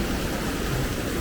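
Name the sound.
water splashing inside a platform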